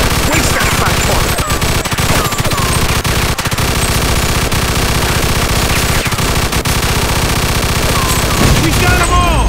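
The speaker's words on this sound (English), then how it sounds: "Stop shooting that fucking thing. I'm going deaf over here." Sustained machine gun fire in Mafia II blasts almost without pause, a loud, close, dense fusillade of rapid shots with heavy booms, running for about nine seconds before tailing off at the end.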